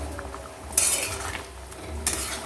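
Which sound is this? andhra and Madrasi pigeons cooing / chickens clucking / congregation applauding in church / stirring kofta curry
stirring kofta curry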